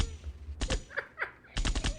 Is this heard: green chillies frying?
no